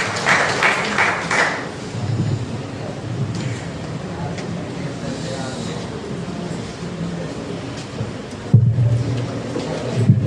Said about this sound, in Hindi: ताली बजाओ चंदन के लिए।